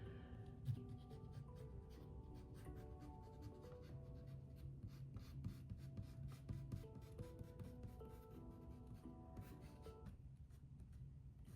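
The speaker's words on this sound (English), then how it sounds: "just lightly erase the lines if you don't want your pencil marks" A gum eraser rubs over pencil lines on watercolor paper, giving a faint, steady scratchy rasp of quick back-and-forth strokes that runs without a break.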